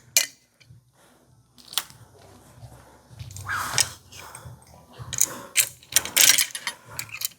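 Ratchet wrench snugging down motorcycle fairing hardware on a T-Cycle spring fairing kit, a run of close mechanical clicks in quick bursts, loudest toward the end.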